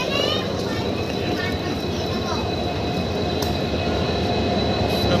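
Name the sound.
train arriving at station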